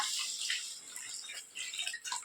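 Tamarind water is poured into a fish curry masala for a jilebi and kenda fish kuzhambu, making a faint, soft trickling splash that runs for a couple of seconds with no voices.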